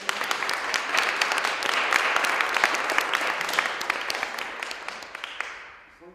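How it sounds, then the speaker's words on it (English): An audience applauds traditional Korean music performers steadily for several seconds, a dense wash of clapping that tapers off toward the end. "Let's give the performers a round of applause and welcome them."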